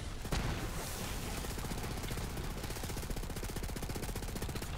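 Rapid automatic gunfire from the Butcher weapon in the shooter game Borderlands 3, a loud, dense stream of shots in quick steady rhythm lasting the whole stretch, close and without talk.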